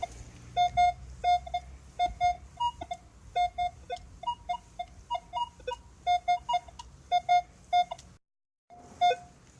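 Short repeated electronic beeps from a Minelab Equinox metal detector over a coin buried about 7 inches deep, a steady pulsing tone pattern with brief pauses, close and clear over faint background noise.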